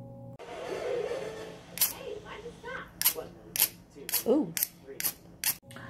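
A Survival Hax 4-in-1 tactical pen fire starter is struck. About eight sharp, bright scrapes come in an irregular series, close by, with some speech in the background.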